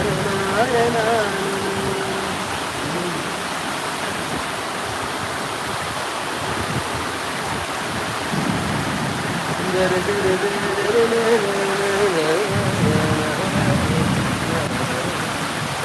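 Floodwater rushes loudly and steadily after heavy rain in an urban area, a constant roaring wash with voices talking over it now and then.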